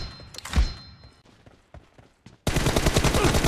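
Gunfire in the mobile battle royale game PUBG Mobile: a few sharp, scattered shots and thumps, then an abrupt, loud, continuous burst of rapid automatic fire at the end.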